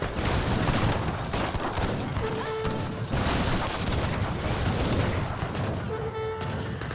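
A grenade launcher unit fires away during an Age of Empires 3 battle, producing repeated booming blasts and crashes layered over busy game sounds.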